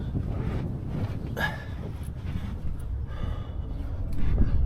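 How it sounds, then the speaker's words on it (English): Wind blows outdoors during an oil change on a 2023 Cadillac Escalade, a steady rough whoosh with gusts and microphone buffeting throughout, and a few faint breathy noises close by. "why is it so goddamn windy?"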